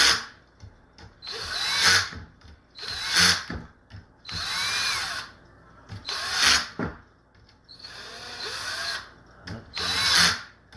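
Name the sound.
cordless drill driver tightening screws on e-bike battery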